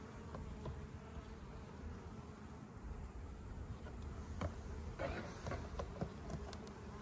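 Honeybees swarm and buzz steadily around an open beehive during a strong honey flow, a dense continuous drone close to the hive with a few sharper individual bees passing near, and no talking over it.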